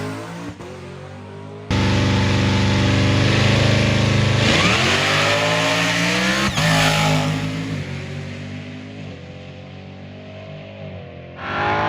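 A supercharged LT4 car accelerates hard on a record run, its engine note climbing steadily through the gears with sharp shifts, loud and close, then easing off near the end with no talking.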